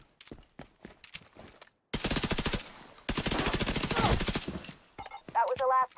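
Automatic gunfire from the video game The Division 2 rattles in two long, loud sustained bursts, preceded by scattered single shots and clicks and followed by a voice.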